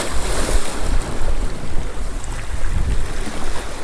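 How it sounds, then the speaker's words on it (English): Wind blows off the shore by the sea at a breakwater, a steady rushing roar with gusty buffeting on the microphone and surf underneath, loud and continuous with no talk. "The wind off the shore."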